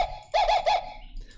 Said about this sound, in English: Then there's a sampled monkey which says ooh.